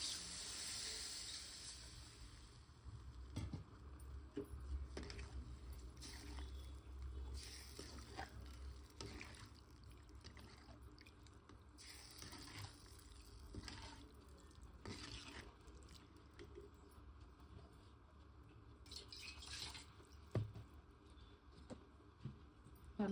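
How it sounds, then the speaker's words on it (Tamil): Karakuzhambu curry simmering in a pot after tamarind water is added, with a quiet, close bubbling hiss and scattered soft pops and drips throughout, and no speech. "நல்லா குழம்பு கொதிக்கட்டும்."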